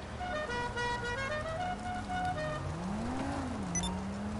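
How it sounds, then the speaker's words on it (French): A synthetic car horn honks repeatedly over a droning engine hum in The Crew 2 video game, with tones bending as the vehicle moves, no speech. "La merde ton klaxon."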